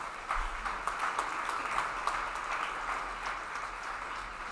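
Audience applause at a Disability Mentoring Day kickoff reception, a steady wash of clapping from a crowd that holds evenly throughout, moderately loud.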